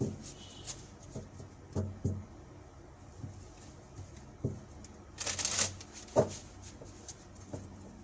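Tarot cards shuffled by hand during a Leo tarot reading, giving soft intermittent riffles and taps with one louder burst of shuffling in the middle, close and quiet with no talk.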